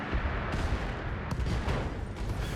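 An enemy Commando mech fires its weapons in Battletech, a sustained barrage of crackling gunfire and booming impacts with sharp bursts over a steady rumbling roar.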